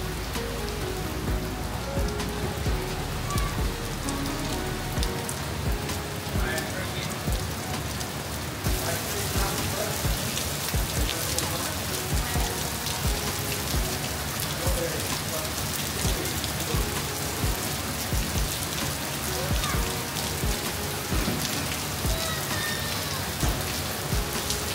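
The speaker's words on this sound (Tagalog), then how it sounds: "Vlog mo sila umuulan." Steady rain pours at an island resort in Coron, a dense continuous hiss of drops on surfaces close by, running throughout with occasional faint voices beneath.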